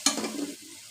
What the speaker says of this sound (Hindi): मसाला हमारा अच्छे से भून रहा है।